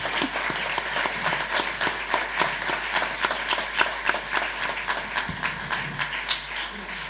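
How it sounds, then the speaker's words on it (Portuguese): A live concert audience applauds a guest cellist in a steady, dense wash of clapping that holds for about seven seconds, with no voices over it. "eu quero um forte aplauso para a minha convidada e grande amiga, a Bárbara Santos, com o seu mágico violonce"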